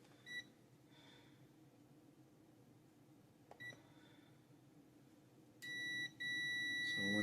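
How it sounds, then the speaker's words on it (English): A multimeter's continuity tester gives short high beeps as the leads touch, two brief chirps early, then a longer steady tone toward the end, clear against a quiet background. "So when I short the leads, I get a beep."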